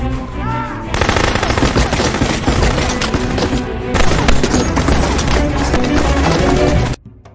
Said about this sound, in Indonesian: Dongchol pun segera kabur dengan dihujani peluru.